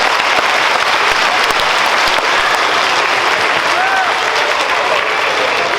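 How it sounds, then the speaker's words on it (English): A school audience at an elementary school grant presentation breaks into loud, sustained applause, a dense steady wash of clapping that holds at full strength throughout. "Let's give them a round of applause"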